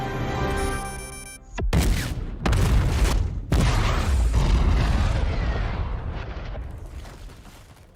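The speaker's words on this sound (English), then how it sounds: "They're gonna use their bomb." A bomb explodes in the film Pacific Rim: after a tonal musical passage, several heavy booming blasts hit in succession, loud and deep, then a long rumbling roar slowly fades away.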